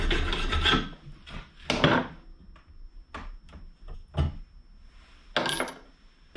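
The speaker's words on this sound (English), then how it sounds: "so that I can then start filing the teeth" Hand file rasping metal teeth on a quadrant for an electric step, heard as short, close, loud scraping strokes in an irregular rhythm with brief pauses between them and no talking.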